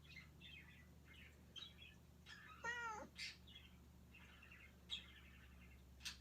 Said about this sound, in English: Alexa, what sound do kittens make?